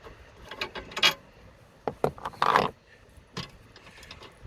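A Citroen Berlingo camper swivel seat being unbolted and slid forward: sparse metallic clicks, knocks and short ratcheting scrapes, close and fairly quiet, with no talking.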